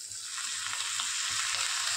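Shevla greens, a wild monsoon vegetable, dropped into a hot pan give off a steady, dense sizzle with a soft bubbling underneath, loud and continuous with no voices.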